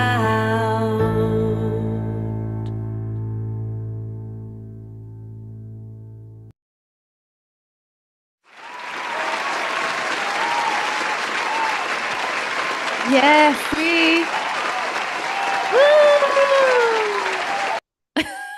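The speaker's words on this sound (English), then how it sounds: "The applause ends so abruptly." A crowd at a live show bursts into loud, sustained clapping and cheering after music fades out, with a few whoops rising above it before it cuts off suddenly.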